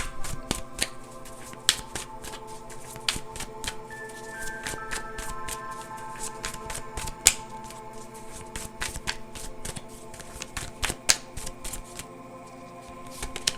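Tarot truth cards being shuffled by hand in a quiet room, giving a steady run of crisp riffling and snapping flicks that lasts the whole stretch with no voices.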